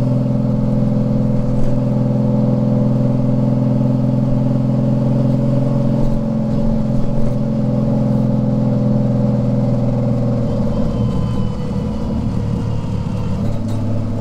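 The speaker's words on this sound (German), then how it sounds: "ich gucke immer, wenn Marius so ein bisschen Gas gibt, ob wir so einigermaßen bei Lambda 1 sind" A tuned VW Golf running an EMU Black engine management unit idles with a loud, steady hum near the microphone, then the throttle is blipped briefly toward the end, raising a rougher rev before the engine settles again.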